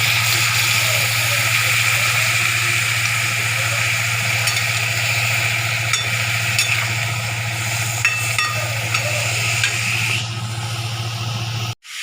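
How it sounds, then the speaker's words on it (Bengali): Spices with cauliflower and potato frying in a pan as they are stirred, giving a steady close sizzle with scattered scraping clicks over a low hum, ending abruptly. "দিয়ে সমস্ত মশলাগুলো আমি ভেজে নেব"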